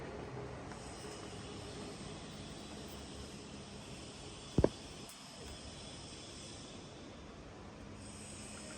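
A Chin Yuan Hsing heavy-duty precision lathe from Taiwan, 900 mm, runs at 150 rpm. It gives off a steady, even hum and whir with one brief sharp knock partway through, and there is no talk.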